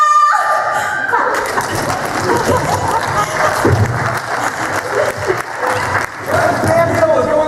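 A theater audience at a Christmas stage production applauds after a country song, sustained crowd clapping mixed with voices and stage music, loud and continuous.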